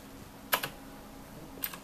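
A few keystrokes on a computer keyboard while entering a command in the Windows command prompt, with a pair of quick taps near the middle and another soft tap toward the end, close and fairly quiet.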